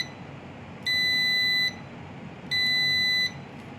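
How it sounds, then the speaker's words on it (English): Two steady electronic beeps from a MECO 801 Junior multimeter buzzer during a continuity test, each lasting under a second and separated by a short gap, clear and close over faint background hiss. "So this is what a continuity test."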